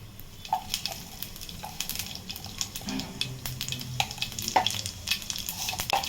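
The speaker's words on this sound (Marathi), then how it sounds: "बटाट्याची भाजी फोडणीला घालते" Hot oil tempering for a yellow potato curry, with cumin, mustard seeds and curry leaves going in, a steady close sizzle broken by frequent sharp pops and a few utensil clinks.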